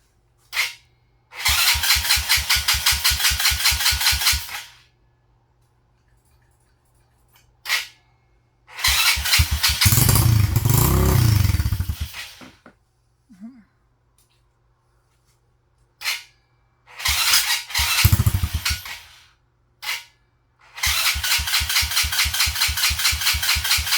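A Venom 125 motorcycle engine cranks and sputters into rough running in several separate bursts, with quiet gaps between, one burst revving loudly and unevenly.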